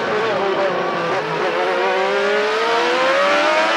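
Formula 1 race cars scream past under hard acceleration, a loud high-pitched engine note climbing steadily in pitch, with Ayrton Senna out in front.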